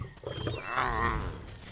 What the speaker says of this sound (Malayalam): കുട്ടി സിംഹം